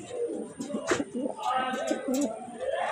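Budapest and racer pigeons coo in low, soft, repeated throaty bursts, close by, with some faint background noise throughout.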